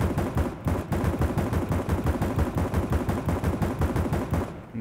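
Rapid automatic gunfire in CS GO with the new shooting sounds, a steady fast stream of close, loud shots lasting nearly five seconds before cutting off.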